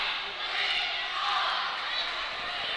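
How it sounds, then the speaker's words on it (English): High school cheerleaders at a basketball game between the Monterey Wildcats and Bledsoe County, ending a cheer. The sound is a steady wash of gym crowd noise with voices blended in, moderately loud and continuous, with an announcer talking over it. "the Monterey High School cheerleaders finishing their cheer"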